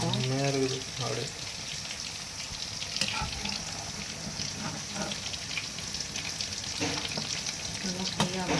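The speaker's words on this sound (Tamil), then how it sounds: "இந்த சிக்கன் வந்து நல்லா ஃப்ரை ஆகிட்டுருக்கு" Chicken leg pieces, washed and coated in ginger-garlic paste, sizzle steadily in a pan, a continuous close frying hiss with occasional clicks and stirring knocks; a voice speaks briefly at the start.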